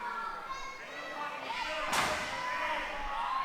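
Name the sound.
wrestler slamming into his opponent in a wrestling match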